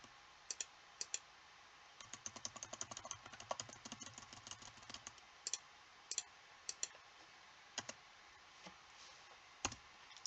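Computer keyboard typing while filling in a Canadian visitor visa application form, with bursts of rapid keystrokes and scattered single clicks, close and fairly quiet against a silent room.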